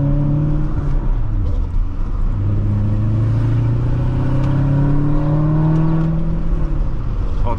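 2016 Chevrolet Corvette Stingray with a seven-speed manual, heard from the cabin as the engine pulls steadily through the gears, its note rising and falling in loud, continuous sweeps with some road clatter.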